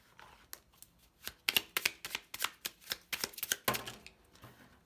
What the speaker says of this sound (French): on va prendre une petite carte de l'oracle de l'âme sœur